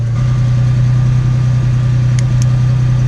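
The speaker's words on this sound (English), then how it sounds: "Engine's running." Car engine idling steadily close by during a light bar install, a constant low hum with a couple of faint clicks near the end.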